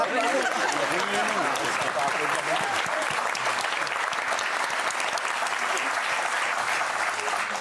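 An audience claps steadily for a few seconds, a thick continuous patter of hands with a voice heard briefly at the start, moderately distant.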